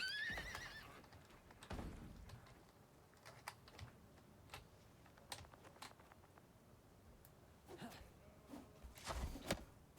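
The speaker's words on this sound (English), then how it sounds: "I'm gonna have to deal with the horsey, which is trying to destroy my base" A horse in the survival video game Icarus gives a short high whinny at the very start, followed by a steady patter of computer keyboard typing and some soft clip-clop, all fairly quiet.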